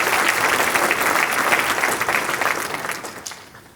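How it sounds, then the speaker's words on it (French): Crowd clapping at a mayor's New Year address, a dense burst of applause already underway that gradually thins and tapers off toward the close. "Oui, vous pouvez les applaudir."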